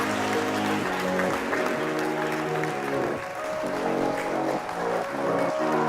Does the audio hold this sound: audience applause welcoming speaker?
yes